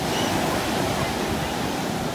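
Sea waves wash steadily against the shore, a dense, loud, continuous roar of surf with wind buffeting the microphone.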